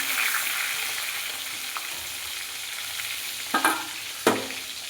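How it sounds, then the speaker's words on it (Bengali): Salted potato pieces frying in hot oil make a steady, loud, close sizzle, with two sharper spatters near the end as more pieces drop in. "এখানেও তেল গরম হয়ে গেছে, এক এক করে আলুটাও ছেড়ে দিলাম। প্রথমে আলুটা ভেজে আনি"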